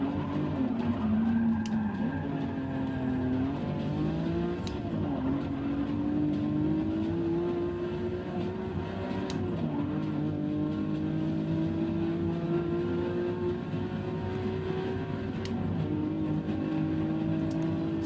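A 2013 Porsche race car in Forza 6 heard from the cockpit, its engine droning loudly and steadily with pitch rising and falling through gear changes, occasional tire squeal, and no talking.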